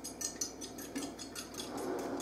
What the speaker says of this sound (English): Get our fork and we're gonna beat the eggs.